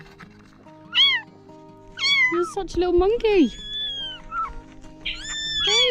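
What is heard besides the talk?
abandoned baby kittens meowing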